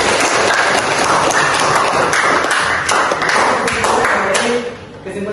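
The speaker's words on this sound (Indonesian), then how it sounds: "Oke, tepuk tangan." A school class applauds together in the classroom, a dense, loud run of clapping with scattered taps and thumps, mixed with voices, fading near the end.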